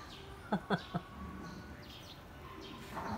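Birds outside a house window, a few quick faint chirps in a short cluster, then distant soft calls over quiet room ambience.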